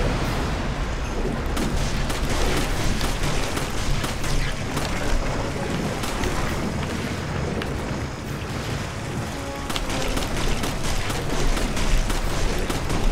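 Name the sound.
gunfire from shooting glowing orbs in Resident Evil 5 video game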